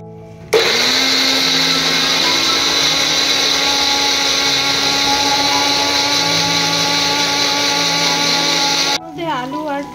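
An electric mixer grinder whirs loudly and steadily for several seconds while blending ginger, garlic and green chilli into a paste, then cuts off, followed by a brief voice.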